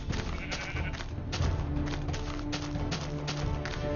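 Sheep bleating in the block-building game Minecraft, several soft bleats scattered over a busy backdrop of footsteps and game sounds, fairly quiet and close.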